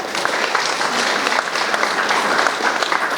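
Guests at a wedding celebration applauding, a dense, loud burst of steady clapping from a crowd, continuing throughout with no break.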